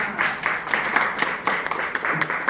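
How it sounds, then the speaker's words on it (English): Brief round of clapping from an audience at a neighborhood congress meeting honoring presenters, a moderate, closely spaced patter of hands with no voices. "how about a big round of applause for our presenters?"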